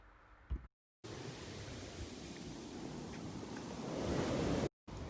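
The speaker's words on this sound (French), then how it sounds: "la mer est bonne et peu agitée" Calm, gently rolling sea at a sunny Guadeloupe beach near Sainte-Rose, a soft continuous wash of surf with a faint hiss, briefly cut by short silent gaps.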